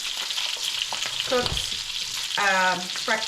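An egg skillet fries on a stovetop, giving a steady close sizzle with brief stirring scrapes and a couple of short tonal squeaks over the hiss.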